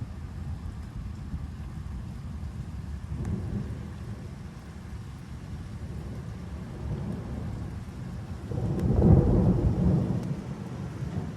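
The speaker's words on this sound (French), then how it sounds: "l'orage va continuer de passer sur Metz" A thunderstorm over Metz in July, with steady heavy rain and a low rolling rumble of thunder swelling near the end, continuous and close, with no voices.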